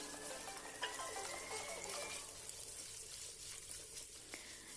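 Two medium onions sautéing in oil with spices in a pan for home-made Arabian chicken mandi, a steady close sizzle and hiss with brief clinks of a stirring spoon, no talk.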